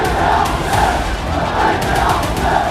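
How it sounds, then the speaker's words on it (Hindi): A dense, loud street crowd roars and chants continuously in rising and falling waves, voices blending into a thick wall of sound with no pauses. "जगह जगह भीड़ सड़कों पर इकट्ठा होकर नारेबाजी कर रही है।"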